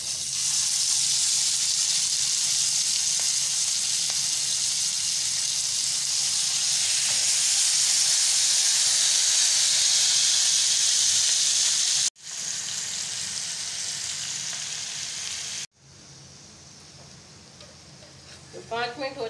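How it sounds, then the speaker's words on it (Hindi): Chicken tikka pieces frying in two tablespoons of oil in a pan, a loud steady sizzle and hiss that continues through several cuts, with faint talk at the end. "तो मैंने इसमें डाला है 2 टेबल स्पून ऑयल। अब इसमें जाएगा हमारा टिक्का।"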